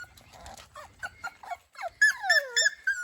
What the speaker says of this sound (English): the puppy's having a little exposure activity out here on the gravel after bath time